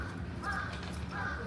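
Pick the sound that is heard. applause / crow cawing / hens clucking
crow cawing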